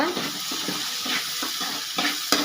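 Vegetables sautéing in a pan for idli sambar, a steady close sizzle broken by repeated stirring scrapes and one sharper knock near the end, with no talking.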